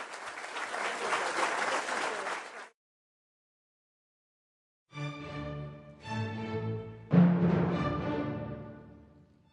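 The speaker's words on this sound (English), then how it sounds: "let's give our panelists a big round of applause" Applause for a panel of speakers at an Illinois public-affairs event, a dense burst of clapping that stops abruptly, followed after a pause by louder, tonal audio with no talk.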